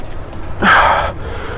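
A single forceful exhale during a bench press at a gym, one loud breathy rush lasting about half a second over quiet background.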